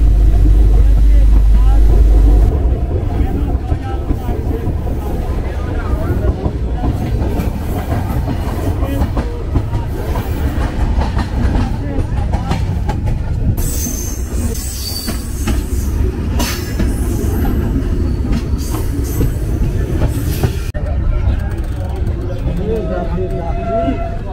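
Inside a new coach of the Madhumati Express running through Bangladesh, a continuous rumble of wheels with clickety-clack and brief squeals as a voice talks over it.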